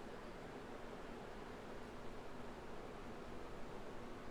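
Fan noise in the Outer Wilds DLC, a constant soft broadband whoosh that stays even and faint throughout with no other sounds.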